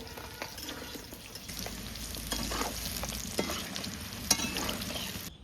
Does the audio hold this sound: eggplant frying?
yes